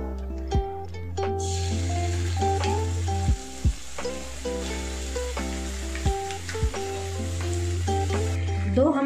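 Ginger, garlic, green chili and cumin paste frying in oil for Hyderabadi-style bagara baingan gives a steady, close sizzle, broken by a few sharp clinks of stirring.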